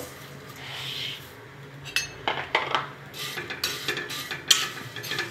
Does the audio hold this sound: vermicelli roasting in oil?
yes